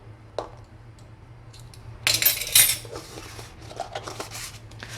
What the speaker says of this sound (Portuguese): Vou colocar aqui uma colher de café de fermento.